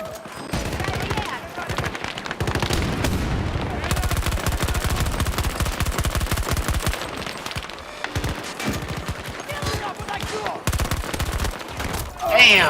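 Dense, sustained automatic gunfire from a video game, loud and continuous with rapid bursts, and a player's voice breaking in briefly near the end.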